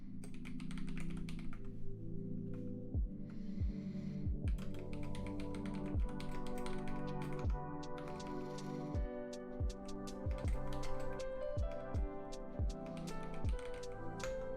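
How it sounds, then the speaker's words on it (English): Rapid typing on a computer keyboard, with dense irregular key clicks and occasional sharper taps running steadily throughout at close range, over a low background hum. "I'm getting so sick of typing the words experience and gameplay."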